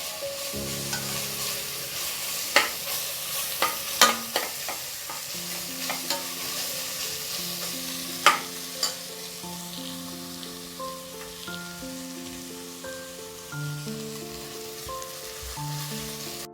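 Ingredients for millet biryani are sautéed in a pan, giving a soft steady sizzle with occasional sharp clinks of the stirring spoon, under tonal background music.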